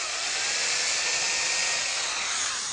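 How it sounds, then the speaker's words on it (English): A power drill bores a 1/16-inch hole into the tip of an elm marquetry leaf, a steady high whine sustained without pause, close and loud. "I'm going to drill a hole, 1/16 of an inch hole, right here at the tip."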